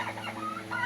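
Ten hens and two roosters in a poultry flock, clucking softly and steadily close by in a short continuous stretch, with no voices.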